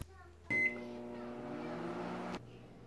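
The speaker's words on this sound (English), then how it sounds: "So now I put this in the microwave for about 5 minutes." Microwave oven heating a dish of scalloped potatoes, its steady low hum stepping up as the cooking cycle starts, a brief beep at the beginning, then a continuous even drone before it drops back.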